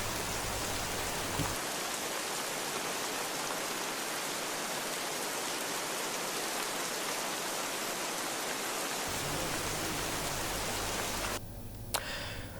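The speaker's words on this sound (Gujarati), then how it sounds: "વહેલી સવારથી ધોધમાર વરસાદ ખાબક્યો હતો" Heavy early-morning rain pours down in Surat as a dense, constant roar of falling water that holds steady throughout, with no voices.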